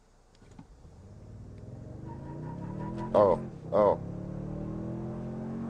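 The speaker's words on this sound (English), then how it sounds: "We're gonna go to normal mode here and just floor it." A 2024 Toyota Tundra Limited in normal mode accelerates hard at full throttle, its engine note rising steadily with a brief tire chirp, and a voice briefly exclaims over it.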